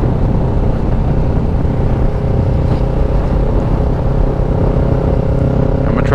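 A 2017 Kawasaki Ninja 650 motorcycle engine drones steadily and loud throughout a ride, with wind noise over it and a clutched gear shift partway through; no distinct rev change stands out.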